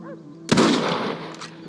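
A single heavy rifle shot cracks loudly in Red Dead Redemption, a sharp broadband blast after a brief quiet lead-in, followed by a long rolling echo that fades slowly.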